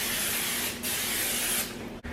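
Vegetable oil hisses from a spray can onto a pizza pan in two steady bursts, close and continuous with a brief pause between, no talking.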